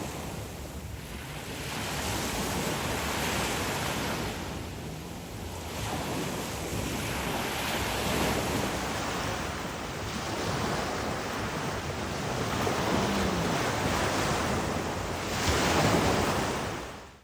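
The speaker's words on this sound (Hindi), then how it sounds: "मैं थोड़ा सा आपको वेव्स भी सुनाऊंगी।" Ocean waves wash onto a Maldives island beach in a steady, rolling surf that swells and recedes, mixed with wind noise on the microphone and no voices.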